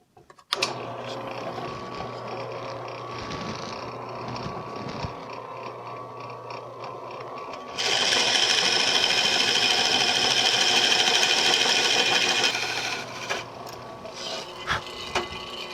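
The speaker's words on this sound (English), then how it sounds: "we are going to drill a 1 3/8 inch hole there. Here's our 1 3/8 inch Forstner bit." A 1 3/8 inch Forstner bit bores into redwood for a planter box post, a steady mechanical whir that rises into a louder grinding, chattering cut for several seconds before winding down, close up with no talk.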